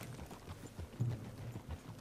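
Horse hooves clop in a steady, soft rhythm in Red Dead Redemption 2, faint and somewhat muffled over low background ambience.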